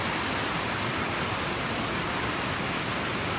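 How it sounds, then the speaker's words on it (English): A creek along a mountain trail on the Inca Trail in Peru flows with a steady broadband rush, loud and continuous, with no voices. "Following the creek up."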